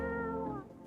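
A cat in a video game gives a single close, clear meow, drawn out and then trailing off, with nothing else heard.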